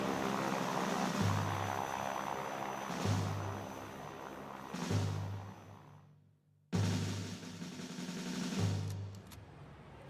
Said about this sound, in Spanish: Un grupo de aviones llega desde el Palomar y arroja volantes sobre la ciudad.